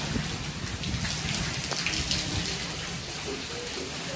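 Heavy rain from Tropical Storm Isaias pours down steadily, a dense loud hiss of drops hitting surfaces close by, with no pauses.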